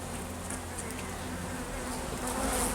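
Honey bees buzz in an open beehive during autumn hive preparation, a dense, continuous, close-up drone with individual bees flitting near the microphone, steady and calm throughout.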